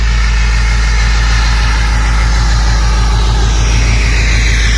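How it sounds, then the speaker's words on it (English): A plow truck engine idles loud and close, a deep steady rumble with a regular low pulsing throb that holds evenly throughout with no voices. "Here's what BigBlack sounds like at idle."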